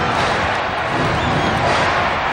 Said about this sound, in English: Crowd's into this ball game.